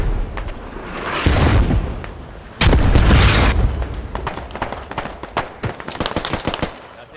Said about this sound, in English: You mean the mortars?